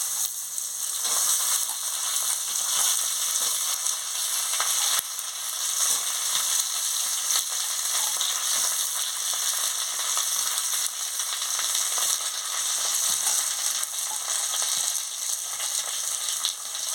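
Eggplant and potato pieces fry with dried chilli, turmeric and salt in hot oil, a loud continuous sizzle with periodic scraping stirs and soft clatters of a utensil against the pan, no talking.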